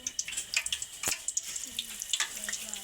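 Spinach pakoda batter dropped into hot oil, producing bubbling, crackling sizzles with a few sharp pops and splutters, close and moderately loud, with a faint voice in the background.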